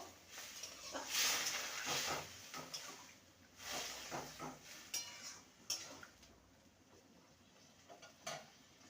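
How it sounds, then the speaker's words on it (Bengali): Boiled peas stirred into spiced ghugni in a pan, giving soft scraping and clattering stir strokes with a faint hiss, irregular and fairly quiet throughout. "এবার সেদ্ধ করা মটরটা দিয়ে দেবো ভালো করে নেড়ে নেবো"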